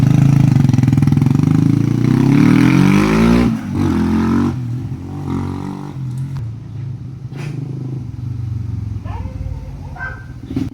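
A second-hand motorcycle engine runs loud and steady close by, its pitch rising and falling slightly, then settling into a lower idle with a few light clicks and knocks.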